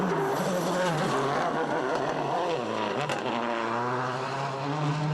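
A rally car races along tarmac at the Rally of Turkey 2010, its engine roaring loud and close throughout, pitch rising and falling with gear changes and a brief dip mid-run.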